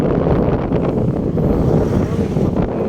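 Strong wind buffets the microphone on a high bridge in Zambales, a loud continuous low rumble with gusty swells throughout.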